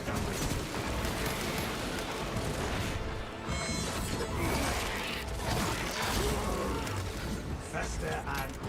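Dense, continuous gunfire and explosions from the video game Space Marine 2, loud and unbroken throughout with a voice talking over the battle.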